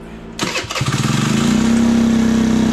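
A PMZ50 Honda Grom clone motorcycle engine cranks and catches, then settles into a loud, steady, high idle, close by with no talk.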